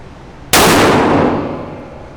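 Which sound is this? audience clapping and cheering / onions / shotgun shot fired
shotgun shot fired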